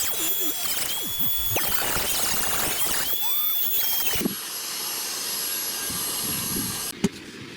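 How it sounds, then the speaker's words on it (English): A Dremel rotary tool whines at high speed, its pitch wavering as it sands epoxy on a Suzuki SV1000 flywheel repair, then settling into a steadier buzz before a brief knock. "Then obviously I'll tidy it all up with the Dremel"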